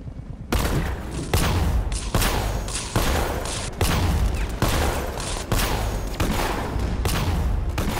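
Heavy gunfire in a Batman video game, with about nine separate loud, blasting bursts of rapid shots, each cutting off abruptly before the next, close and dominant.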